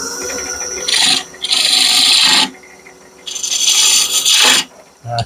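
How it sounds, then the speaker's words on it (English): A spindle gouge rasping against the edge of a round wooden bourbon smoker on a lathe, loud and close, in several sustained bursts separated by brief pauses. "I'm going to take my spindle gouge"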